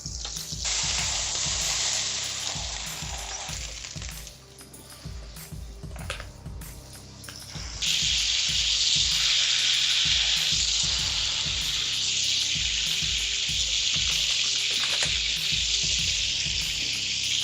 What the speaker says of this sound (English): I'm pressing down on it with a spatula, trying to get some of the blood and juices to pool out of it